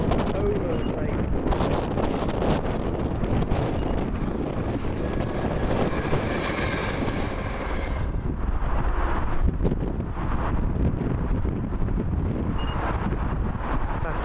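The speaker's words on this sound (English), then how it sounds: "Let's forgive the wind, it's buffering me around all over the place." Wind buffeting the microphone at Cardonald railway station, a loud continuous rumbling roar that fills the whole stretch and masks any other sound.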